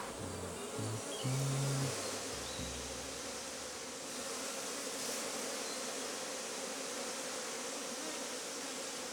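Honey bees on an organic honey farm drone steadily around the hive in a dense, continuous buzz, joined early by a few low humming tones.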